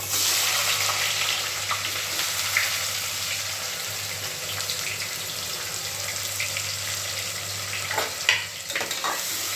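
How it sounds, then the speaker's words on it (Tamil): Onions frying in oil until golden for biryani, a steady broadband sizzle with occasional stirring and clinks, continuous and fairly close throughout with no voices. "அதே மாதிரி வெங்காயம் வந்துட்டு நல்லா பொன்னிறமாக வதங்கணும்."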